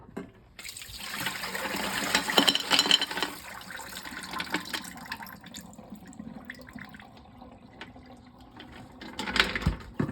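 Liquid from a pot of clams pours out past a held pot lid, a close splashing, gurgling flow that rises and eases, with clinks of the lid and a final burst of pouring.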